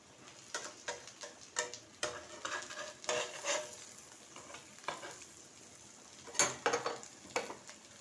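Sim paturi, a bean dish, frying in a pan under a covering leaf: irregular crackling pops and spits rise and fall over a soft sizzle, close and fairly quiet, with no talking.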